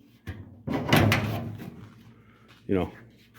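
The door of a 1951 Chevrolet with badly misaligned door gaps is worked open and shut, giving a few close metallic clunks and latch knocks. Someone talks over them.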